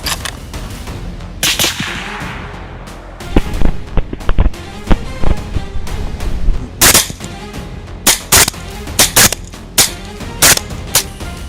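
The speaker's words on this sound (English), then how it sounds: "Then, the air cracked with gunfire." Rifle fire during a night hunt for a large group of wild boar: a rapid, irregular string of sharp, loud cracks, some in close clusters and others spaced apart, over low background noise with no talking.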